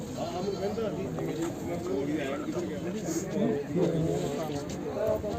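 Goats bleat repeatedly at a busy village goat market in Bargari, Punjab, several animal cries rising above a constant murmur of crowd chatter and nearby voices.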